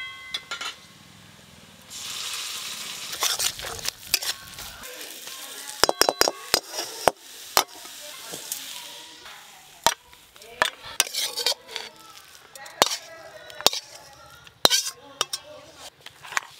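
Onion and garlic fry in a pan as bottle gourd peel paste is added and stirred in, giving a loud sizzle at first and then repeated sharp scrapes and clinks of a utensil against the pan.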